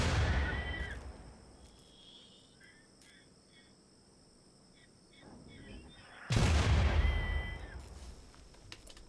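RimWorld mortars fire two loud, heavy booms, one at the start and one later, each with a long rumbling decay, set against quiet insect-like ambience and occasional talk between them.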